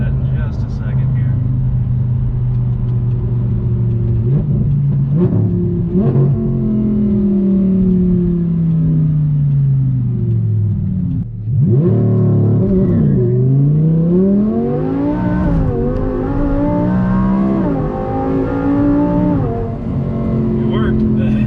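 A 2015 Audi R8 V10 engine revs loudly and steadily, then launches with a rising surge as all four tires spin, the engine note climbing with a brief dip between gears.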